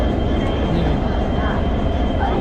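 A train at Dimapur railway station produces a continuous, heavy low rumble and roar that stays steady and loud throughout.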